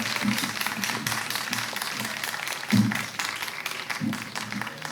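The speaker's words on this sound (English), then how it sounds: "a warm round of applause, please," Applause from the audience at a children's book festival as an author and illustrator is introduced: dense, steady clapping with a few louder claps, some voices mixed in.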